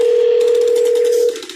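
Telephone dial tone sound effect: a loud, continuous, steady hum held for over a second before it cuts off abruptly, heard alone.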